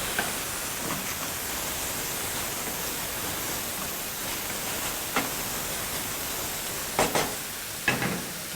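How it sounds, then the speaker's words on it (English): Beef liver sizzles steadily in a pan for breakfast, a continuous hiss of frying with a few soft scrapes of stirring near the end, no voices. "Stir and cook for some time."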